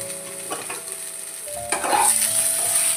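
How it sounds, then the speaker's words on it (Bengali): Ridge gourd pieces are added to a little hot oil for a Bengali fish curry, giving a low frying hiss that swells into a louder, steady sizzle partway through, heard up close. "হালকা করে ভাজা করে এরপরে আমি দিয়ে দিচ্ছি ঝিঙের টুকরোগুলো।"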